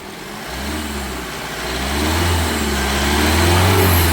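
A 2015 Tata Safari Storme VX diesel SUV engine revved with the accelerator, rising from a steady idle into a louder, climbing drone that holds near and strong with no talking.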